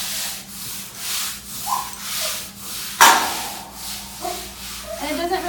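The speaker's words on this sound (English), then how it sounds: "it doesn't really matter what technique you use as long as you scrub the floor" Rhythmic scrubbing strokes of a brush across a dog kennel floor in an animal shelter adoptions building, about a dozen steady back-and-forth rubs with a sharper knock midway and faint background hum.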